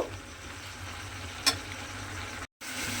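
Chopped tomato cooking in a pan, a soft steady sizzle with faint stirring clicks and one brief sharp tick, heard alone without speech.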